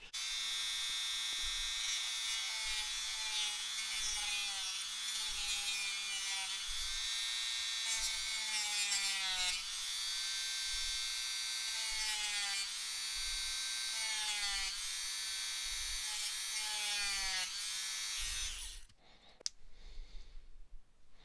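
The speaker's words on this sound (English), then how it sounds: "I'll do what I did with the rest of them with a series of files and sandpaper. I'll sand that down flat" An action figure part being sanded down flat with a series of files and sandpaper, giving a steady, close rasping drone with rhythmic strokes that runs for most of the clip, then drops off near the end.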